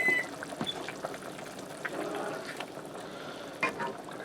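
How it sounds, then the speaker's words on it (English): Heavy cream pours into a hot pan of Cajun shrimp pasta sauce with crushed tomatoes. The steady liquid splashing and bubbling carries on from start to finish, close and fairly quiet, with a soft clink near the end. "I'm going to add in 1 cup of heavy cream"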